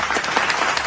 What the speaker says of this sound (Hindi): ताली मारो यार।